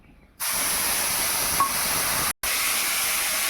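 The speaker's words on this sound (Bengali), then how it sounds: "পেস্ট করা পেঁয়াজ দিয়ে দিচ্ছি।" Onion paste dropped into a hot pan of oil with cardamom, cloves and cinnamon while cooking a rohu fish fennel curry, bursting into a loud, steady, close hiss that continues with one brief break.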